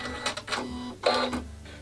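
A Janome Atelier 7 sewing machine runs its automatic thread cutter, a short burst of quick mechanical whirs and clicks in two close, rapid pulses.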